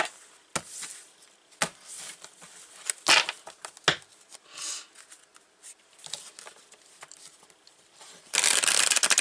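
Lenormand cards being cut several times in a row, giving sharp papery snaps and soft slides, ending in a loud, steady rush of riffling cards at close range.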